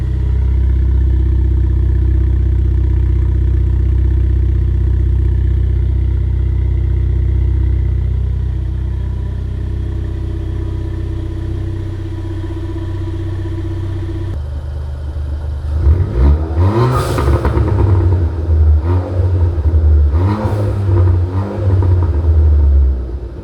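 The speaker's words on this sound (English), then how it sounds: "it's not a loud exhaust by any means, but listen to that note" A modified 240bhp Ford Fiesta ST3 idles with a low, steady rumble, then revs twice in quick bursts, the exhaust note rising and falling sharply near the microphone.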